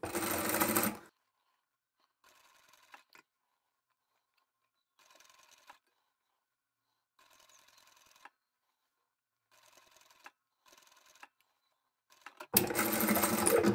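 Domestic sewing machine understitching the lining of a bridesmaid dress: several short bursts of stitching separated by pauses, fairly quiet and close, bracketed by louder broadband noise at the start and end.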